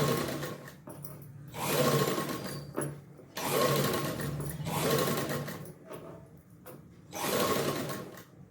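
A sewing machine stitches lining fabric for a tailored garment in bursts of steady whirring, running about a second or two at a time with short pauses between runs, close and fairly loud, with no talking.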